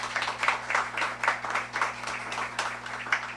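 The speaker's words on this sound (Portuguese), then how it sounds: "a igreja dá boas-vindas com a salva de palmas" A church congregation applauds newcomers at a New Year's Eve service, steady crowd clapping rolling on in soft irregular waves throughout, moderately distant with a faint hum beneath.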